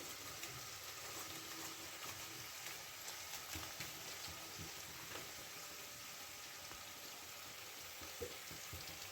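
Chicken sautéing with biryani spice in a pan, giving a steady, low sizzle with faint scraping and stirring throughout, no voices.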